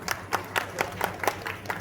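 Audience clapping in rhythm at a bhajan mandal performance, about eight evenly spaced claps in under two seconds, moderately loud over a low background hum.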